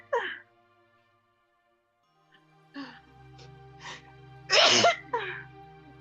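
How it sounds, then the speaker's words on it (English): A gasping breath, then a series of short inhaled catches building to one loud, sharp sneeze, followed by a softer exhale, close and otherwise quiet. "hold on, I gotta sneeze."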